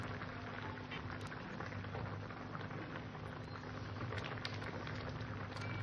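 Prawns, fried beforehand, go into a simmering curry of cauliflower and potato, and the pot keeps up a steady close bubbling and sizzle with no voices.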